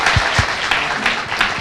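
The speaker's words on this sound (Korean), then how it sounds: "박수 부탁드립니다" An audience applauds for a lawyer, a short burst of dense clapping at steady loudness, lasting under two seconds.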